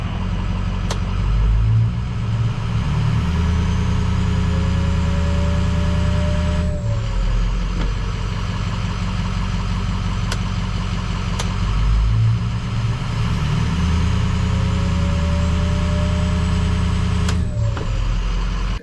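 Ford 6.0 Powerstroke diesel pickup running at high idle, a steady loud low diesel drone held throughout, with faint whine sweeps and a couple of short sharp clicks or air-release hisses over the engine.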